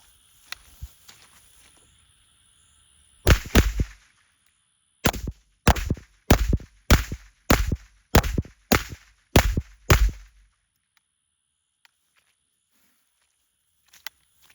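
Taurus RPC carbine shooting Aguila 124 grain ammunition outdoors, a burst of about nine loud, evenly spaced gunshots in quick succession, followed by quiet.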